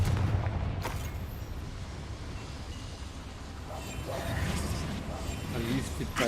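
A Confringo blasting spell goes off in the video game Hogwarts Legacy, with booming bursts and mechanical rumbles over continuous game sound.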